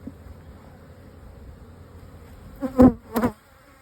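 Honeybees in an opened hive: a low, faint background hum, then a couple of loud close buzzes as bees pass near, each lasting a fraction of a second.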